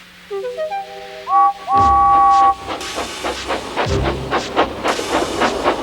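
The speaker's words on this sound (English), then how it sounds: "the snorting engines forced the freight cars up the hill" A steam whistle sounds in rising tones, then loud hissing bursts and rhythmic chuffing of a steam locomotive working hard, close by.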